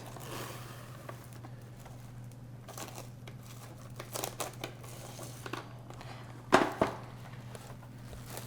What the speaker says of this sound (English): All we have to do now is cover this with plastic.